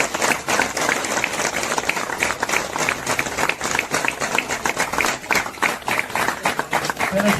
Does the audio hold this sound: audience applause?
yes